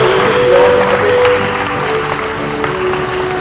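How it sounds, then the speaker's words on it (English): Audience applause at a karate award ceremony, steady, dense clapping from a crowd throughout, with faint background music tones underneath. "Round of applause, please."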